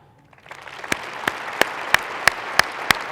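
Applause builds from near silence at a political presidential forum, then settles into a steady crowd clatter marked by a string of sharp, evenly spaced single claps close to the microphone.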